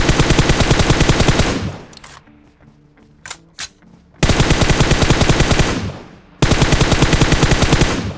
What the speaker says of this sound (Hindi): इसे AKM वाले बंदे ने मुझे एक गोली मारी